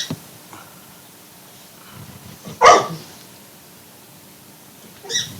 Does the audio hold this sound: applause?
no